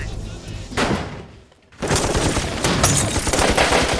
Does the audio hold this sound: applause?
no